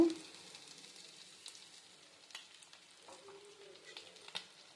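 A prawn fry being stirred in a pan with chili powder and garam masala, a quiet soft sizzle with occasional light scraping taps of the spoon, no voices.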